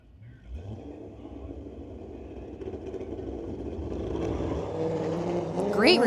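Drag race cars launch side by side at a Street Legal night at Mission Raceway Park, a Corvette against a Ford, with engines building from a low rumble to a rising, close, loud roar that peaks near the end.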